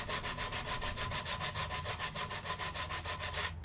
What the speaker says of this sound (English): I'll smooth everything out with some hand sanding